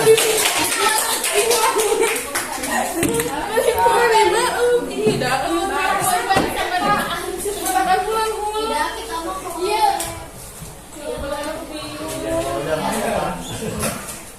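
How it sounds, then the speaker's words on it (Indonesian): Classroom applause for a student group in a madrasah lesson, dense clapping from many hands lasting the whole stretch, mixed with children's chatter and voices. "Tepuk tangan untuk kelompok 3"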